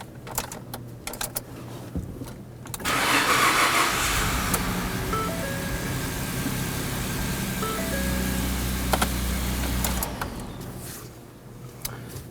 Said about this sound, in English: go ahead and try and start the engine